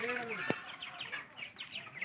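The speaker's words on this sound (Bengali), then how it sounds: "এক মাসের মুরগি" One-month-old broiler chickens on a poultry farm in Gopalganj, Bangladesh, cluck and chirp in a lively, overlapping chatter close by, with a sharp squawk near the start.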